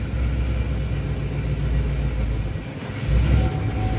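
A 5th-gen Chevrolet Camaro idling in reverse with its wheels raised, a loud steady low engine and drivetrain rumble, briefly dipping before swelling again.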